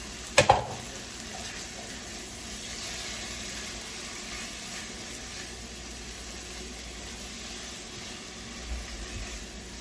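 Ground chorizo sizzles steadily in a hot pan after landing with a couple of sharp clattering hits at the start, a constant close frying hiss with faint stirring scrapes and no talking.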